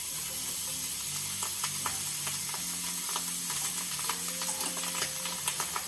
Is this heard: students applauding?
no